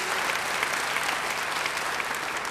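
A crowd applauds in a church service, a dense and steady burst of clapping that fills the whole moment.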